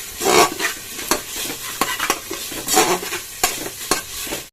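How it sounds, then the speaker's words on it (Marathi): Ginger garlic paste sizzles in a hot pan while a spoon stirs it, making repeated scraping strokes about every half second over a steady close fry, with no voices. "अद्रक लसूण टाकून आपण हलवून घेऊया ते चांगलं प्रकारे"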